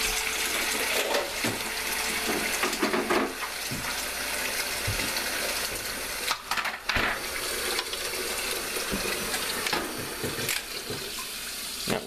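Water runs from a tap into a kitchen sink while mead is being made, a continuous splashing rush with brief gurgles and interruptions as the flow hits the basin.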